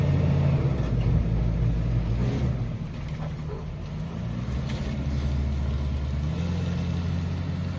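A sold car, a project vehicle from an S-10 V8 swap build, pulls away from a yard with a steady low engine rumble that rises briefly as it accelerates and then holds at a moderate level.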